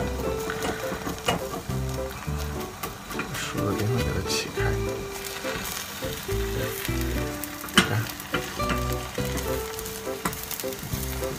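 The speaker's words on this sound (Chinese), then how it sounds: "用小火我们来摊这个鸡蛋里" An egg fries in butter in a pan over low heat, giving a steady close sizzle with soft scraping as the edges are nudged, while a voice talks over it.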